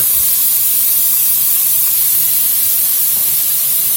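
Diced ham hits a hot pot with browned sausage and sizzles in a loud, steady, even hiss that fills the whole moment.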